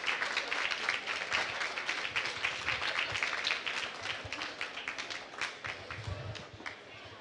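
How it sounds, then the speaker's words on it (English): Audience applause for a group of innovators called up on stage at a NASA forum event, a steady dense clapping that holds for several seconds before gradually thinning out toward the end. "big round of applause for all these great innovators"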